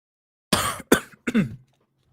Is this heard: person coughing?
yes